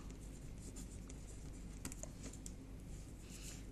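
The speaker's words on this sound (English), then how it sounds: "Quickly write it down because I will forget again." Pen or pencil writing by hand on paper, a faint continuous scratching with a few small taps, close but quiet over a steady low background hum.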